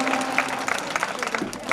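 Children clap at a government school annual function in Indokha, giving a brief burst of dense, moderately loud applause.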